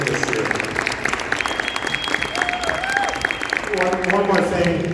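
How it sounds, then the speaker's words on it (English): A crowd claps and cheers for a boys' cross country team, state runner-up, at a high school pep rally in a gym, with dense sustained applause mixed with chatter and voices. "a big round of applause and congratulations to this state runner-up team this year"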